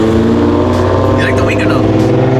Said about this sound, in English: Yeah, second gear pull going.